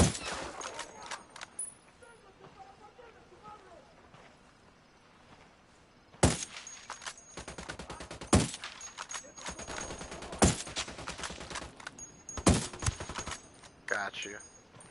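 Bursts of gunfire ring out in several sharp, loud volleys spaced a couple of seconds apart, with rapid clusters between them against a quieter background.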